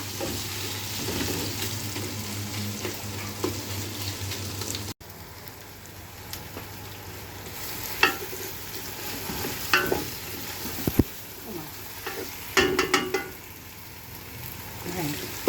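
Khichuri frying in a pan is stirred, giving a continuous close sizzle with scraping spoon strokes and occasional crackles, louder at first and then softer.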